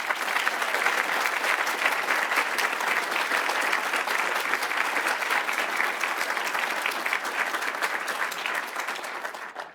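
An audience claps steadily for nearly ten seconds to welcome Senator Ted Cruz, a dense, even wash of applause from a sizable crowd that fades out at the very end.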